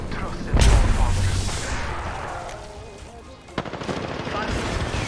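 A loud, close burst of automatic gunfire in Apex Legends, followed by a decaying rumble and another sharp report a few seconds later.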